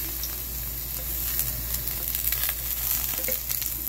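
Garlic sizzling steadily in a hot pan of oil, a continuous close crackle with small bursts and pops throughout, no voices.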